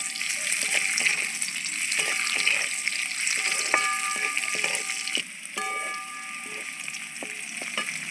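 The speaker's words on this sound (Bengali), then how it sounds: "ভালো করে একটু নেড়ে চেড়ে ভেজে নেব। কাজু আর কিশমিশটা আমি দিয়ে দিচ্ছি।" Cashews and raisins stir-fry in hot fat in a pan, a steady close sizzle broken by light scraping and sharp clinks as they are moved around.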